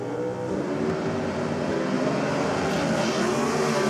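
Drag racing Ford Mustang running a 340 cubic inch small block Chevrolet engine, a loud sustained engine roar with layered harmonic drone holding steady throughout, no voices over it.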